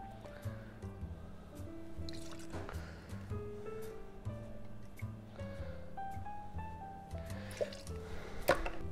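Amaretto liqueur, Disaronno, is poured for an amaretto sour, giving a quiet, close gurgling pour whose pitch climbs as the vessel fills, with scattered drips and small clinks and no talking.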